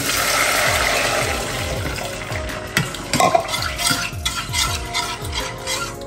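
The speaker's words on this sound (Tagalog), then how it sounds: "Okay, lagyan natin ng 2 cups na tubig." Two cups of water poured into a hot pan of sautéed garlic and bell pepper hiss and sizzle loudly, then settle into a bubbling simmer with the clink of stirring.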